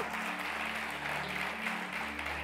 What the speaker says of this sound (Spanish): Que le pongan un aplauso al Señor